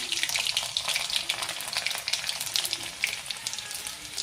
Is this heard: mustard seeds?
yes